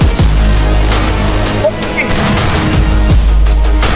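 Booming gunshots in a battle royale game fire in repeated heavy bursts with deep low thuds, loud and close, layered under in-game sounds.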